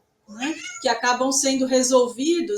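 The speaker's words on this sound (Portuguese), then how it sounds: "desculpem o gato aqui atrás" A cat meows in the background as someone talks. Its drawn-out, wavering meows run under and between her steady speech and are moderately loud throughout.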